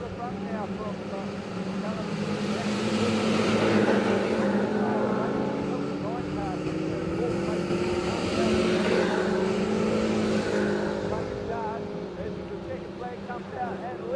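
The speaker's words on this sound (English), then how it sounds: "there's the 41 car, they're charging down the front straight" Race cars roar down the front straight, the 41 car among a pack three wide, a sustained loud engine drone with a commentator talking over it.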